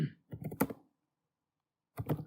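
Brisk clusters of key clicks from a computer keyboard as Cisco switch commands are typed, sounding close, with a short silent gap between two bursts.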